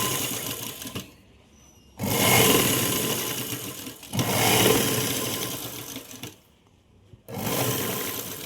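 A sewing machine stitches frills onto cloth in loud whirring bursts of about two seconds each, separated by short pauses.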